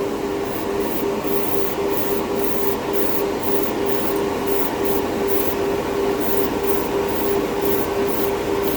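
An airbrush sprays MCW Orbit Orange enamel paint, a continuous loud hiss with a steady hum beneath, cut by repeated short bursts as the trigger is worked, with no talking.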